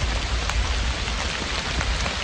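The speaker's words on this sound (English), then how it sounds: "I might have to sit in here and stay dry from the rain." Steady rain falls outdoors in a valley, a dense, loud patter of drops hitting surfaces, constant throughout with no talking.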